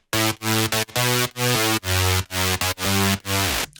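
A wide synth bass layer pitched an octave higher plays a choppy rhythmic pattern of loud, buzzy sustained notes separated by short gaps, alone without any voice.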